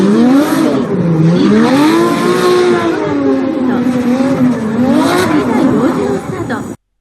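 Toyota Supra with a 2JZ engine drifting, its engine loud and close, revving up and down in repeated swells with tire squeal mixed in throughout.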